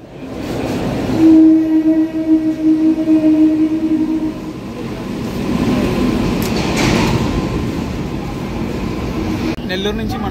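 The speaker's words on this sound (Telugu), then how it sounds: "ఏదో ట్రైన్ వస్తుంది ఏంటది, వాగ్నైన్ లోకోమోటివ్ తోటి గూడ్స్." A goods train hauled by a WAG-9 electric locomotive passes close by, a loud horn blast at the start followed by heavy rumbling and clattering wagons, heard from a moving passenger train with voices talking over it.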